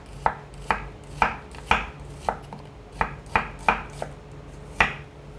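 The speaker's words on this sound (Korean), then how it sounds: "양파는 너무 얇지 않게 스테이크와 같이 먹어야 되니까 식감이 있게 좀 두껍게 썰어주세요." A kitchen knife chops an onion into thick slices on a board for a pork neck steak, about a dozen crisp, evenly spaced thuds, close and clear with no talking.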